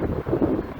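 Wind buffets the microphone on the Big Sur coast near Piedras Blancas lighthouse during a bicycle tour, a steady low roaring rush with brief gusts swelling and easing, close and fairly loud with no talking.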